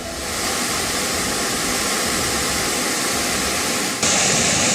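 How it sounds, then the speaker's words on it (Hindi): A muddy, flood-swollen river in a heavy monsoon downpour roars as a torrent, a loud, continuous broadband rush close by that swells slightly louder near the end, with no voices. "मटमैला पानी तबाही का शोर मचा रहा है।"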